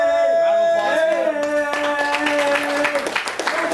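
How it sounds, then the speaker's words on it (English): Participants at a live public-speaking workshop start clapping partway through, with irregular claps rising under sustained, tonal voices that carry from the start. "Round of applause"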